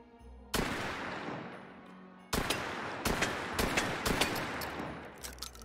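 Gunshots at a target in the VR game Hot Dogs, Horseshoes & Hand Grenades, with two loud isolated shots followed by a quick irregular string of sharp cracks, close and punchy, with no talking.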